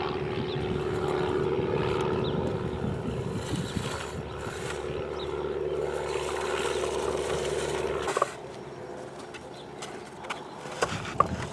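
A loud airplane passes overhead near a house, a broad steady roar that holds for several seconds and then thins out, with faint outdoor ambience and small clicks near the end.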